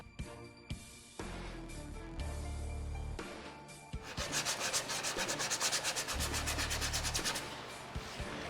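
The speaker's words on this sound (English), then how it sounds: "it's time for sanding" Sanding a wooden end table in a makeshift shop, close rhythmic rubbing strokes with rapid back-and-forth scratching later on, steady and fairly quiet with no voices.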